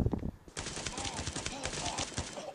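The Salamander automatic rifle in the mobile shooter Guns of Boom fires in a rapid continuous burst of sharp reports lasting about two seconds, loud and up close, after a short moment of voice.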